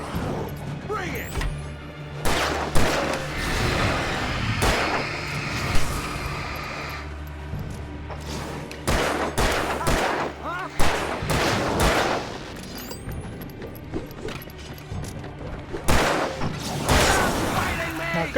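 Gunfire in Alan Wake Remastered, repeated loud close shots and rapid bursts spread across the stretch, mixed with crashes and game clatter, with voices talking between volleys.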